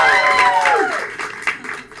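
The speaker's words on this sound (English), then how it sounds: "applaud now!" Audience applause and cheering at a live improv show, swelling under a host's voice for a debate-game winner, then thinning to scattered claps.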